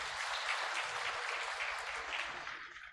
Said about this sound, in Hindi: सम्मान में तालियों से जोरदार स्वागत करते हैं।